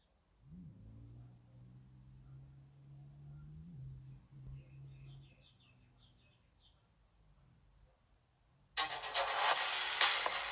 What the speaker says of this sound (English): I apologize if you heard the motorcycle in the background.